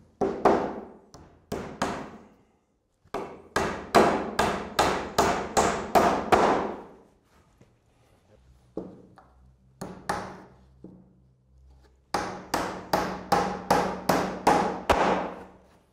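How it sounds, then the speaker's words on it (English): Hammer driving nails into a timber roof batten over the rafters, sharp ringing blows in quick bursts of several strikes each, separated by short quiet gaps, close and loud. "So I've nailed it there, there, and on the end."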